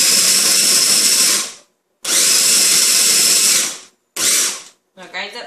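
A blender grinds serrano peppers for a mac and cheese sauce, running loud and steady in two long bursts, then a shorter one, with brief quiet gaps between and a voice starting at the end.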